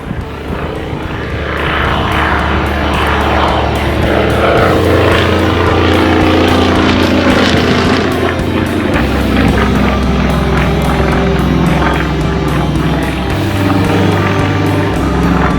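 Yak-50 aerobatic airplane at an air show, its radial engine droning loud and steady as it idles and coasts through a vertical maneuver, with shifting low engine tones and no speech.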